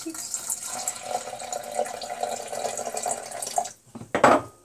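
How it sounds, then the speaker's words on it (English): Water is poured into a Vitamix blender jar over rice and cinnamon, giving a continuous trickling splash close by, then a short clatter and a louder gush at the end. "You just want to add some water."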